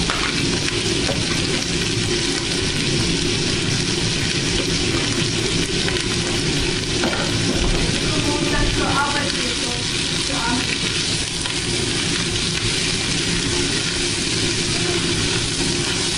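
Hototay sizzles and fries loudly in a pan while being stirred, a dense continuous crackling hiss with faint scraping of the spoon, close and steady throughout.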